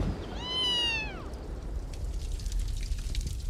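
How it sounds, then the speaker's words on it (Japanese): A single clear cat meow, rising then falling, close by, followed by quiet patter and soft background noise. "この猫はピートです"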